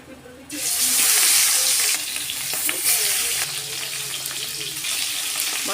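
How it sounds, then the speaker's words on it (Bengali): Koi fish fry in hot mustard oil, a loud sudden sizzle erupting as the fish hits the pan, then a steady crackling hiss that eases slightly, close up with no talking. "এবার মাছগুলো ভেজে নেব।"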